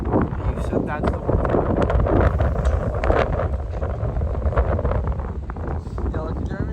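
Strong wind buffets the microphone out on the water during a spring trout fishing trip, a steady loud rumble and gusting roar filling the whole clip, with a voice talking over it.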